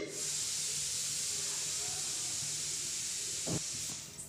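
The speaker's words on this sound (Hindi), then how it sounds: "मेथी का दाना हमारा चटक गया है।" Fenugreek seeds crackling and sizzling in hot oil in a pan, a steady loud hiss with a few sharp pops near the end, close up.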